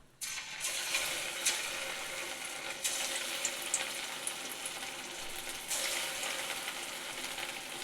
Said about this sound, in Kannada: ಈಗ ಎಣ್ಣೆ ಕಾದಿದೆ ಇದನ್ನು ಒಂದೊಂದಾಗಿ ಬೋಂಡನ ಬಿಡೋಣ